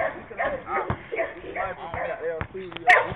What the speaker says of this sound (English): We surrounded by goddamn dogs and shit.